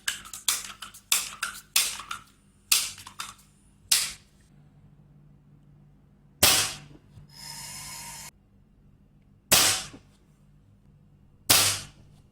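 A Crosman 1377 air pistol is pumped five times, each stroke a short rasping burst, followed by a single sharp report and then a few further isolated cracks, fairly close with quiet gaps between.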